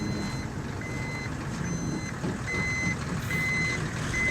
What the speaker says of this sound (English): Now I'm getting towed.